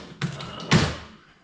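A drawer is pulled open with a light knock and then a heavier sliding thud, two short close bumps in a quiet room.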